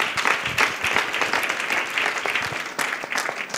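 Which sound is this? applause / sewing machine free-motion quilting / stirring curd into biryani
applause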